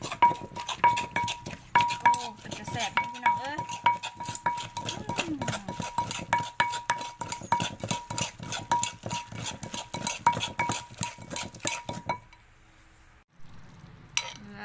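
A spoon stirs chili powder, shallots and herbs together in a bowl for a simple canned-fish tam jaew, giving a steady run of close, rapid metallic clinks and scrapes that stop abruptly near the end.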